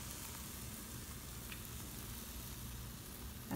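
A pancake frying in a pan, giving a steady, quiet sizzle that continues evenly throughout with no talking.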